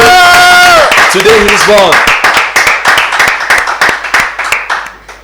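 Studio audience clapping for a guest arriving at a birthday show, starting after a spoken line and continuing as dense, steady applause that thins toward the end.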